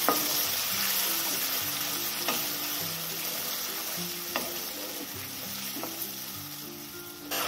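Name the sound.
spice paste frying and being stirred for fish curry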